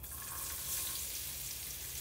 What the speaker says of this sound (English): Yeah, hear that sizzling.